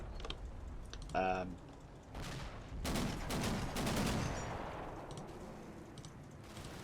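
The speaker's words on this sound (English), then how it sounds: "It's putting some 50 cal fire out there as well." .50 cal machine gun fire in the Combat Mission tank battle game, a loud burst of rapid rattling shots running for about two seconds, after earlier scattered gunfire, with rumbling battle noise trailing off.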